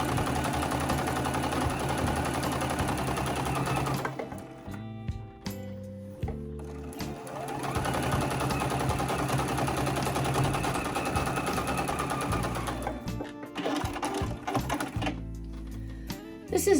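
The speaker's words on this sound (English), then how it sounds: "This is a Juki sewing machine" A Juki sewing machine runs in steady mechanical bursts while stitching a pillow, loud and close, pausing briefly midway before stitching resumes.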